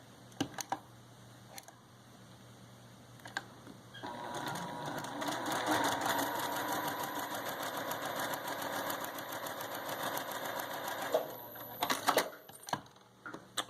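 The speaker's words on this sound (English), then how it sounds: "second wing ready to sew into place. Put a starter through the machine." A sewing machine stitches fabric for a scrappy flying geese quilt block, running in one steady, even burst of rapid needle strokes after a few clicks and handling noises, close and clear in a quiet room.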